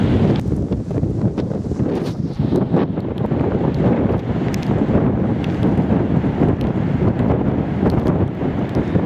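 Strong gusts of wind batter the microphone with a loud, continuous roaring rush that swells and buffets without pause, with no voices.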